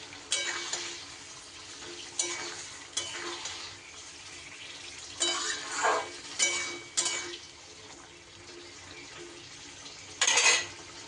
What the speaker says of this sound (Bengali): এইবার আমি সিদ্ধ করে রাখা সব সবজি এর মধ্যে দিয়ে দিলাম